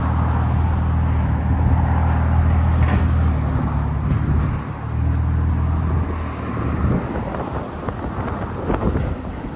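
A brand new 2026 Ram 1500 with the 3.0L Hurricane inline-six and modified exhaust rumbles outdoors, a steady low engine drone with a brief dip and return, heavily buffeted by wind noise across the microphone.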